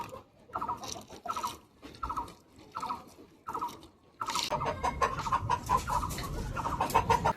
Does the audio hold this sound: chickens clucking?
yes